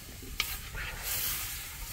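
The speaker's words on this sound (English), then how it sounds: "Stir it round." Seafood, garlic and cream stirred in a hot pan, a close scrape of the utensil followed by a steady sizzle and hiss, with no talking.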